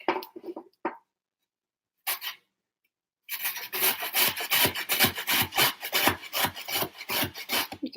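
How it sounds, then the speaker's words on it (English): Garlic is rubbed against a grater in quick, close, rhythmic rasping strokes. A few short scrapes come first, then a pause, then a long run of fast, even grating. "Let's get some grated garlic."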